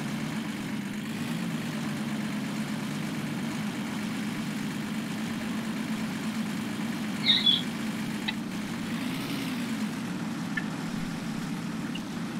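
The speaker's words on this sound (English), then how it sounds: "It sounds like it's idling." A vehicle engine idles with a low, steady rumble, fairly quiet and continuous, with a brief faint click or squeak partway through and no talking.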